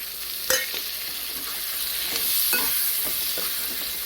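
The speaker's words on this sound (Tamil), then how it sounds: "இப்போ தக்காளி பழத்தை நல்லா கலந்து விட்டு இப்போ தக்காளி பழம் நல்லா வதங்கிக்கட்டும்" Tomatoes and onions being stirred and sautéed in a pan for Tamil fish kulambu, with steady frying sizzle and a few sharp utensil scrapes against the pan, close and clear with no talking.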